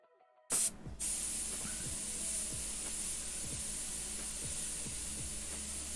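Moisture and compressed air rush out of an old air compressor tank's drain screw into a plastic bottle, a sharp steady hiss that starts abruptly and continues loud and unbroken, with faint rhythmic ticking beneath it.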